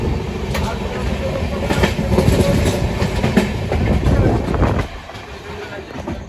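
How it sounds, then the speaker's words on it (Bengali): A local suburban train near Dum Dum, Kolkata rolls past at close range with steady rumble and clickety-clack of wheels on rail joints, loud throughout before dropping off near the end. "ওদিক থেকে আসছে লোকাল আমাদের ওভারটেক করার জন্য"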